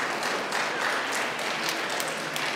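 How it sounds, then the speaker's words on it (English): An audience claps together during a talk about non-profit organisations, a steady broadband wash of hands lasting the whole short stretch, fairly even and sustained, with no voices over it. "if everyone starts clapping,"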